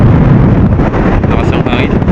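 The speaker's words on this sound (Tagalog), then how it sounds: "Lakas ang hangin." Strong wind buffets the microphone with a loud, continuous roar throughout.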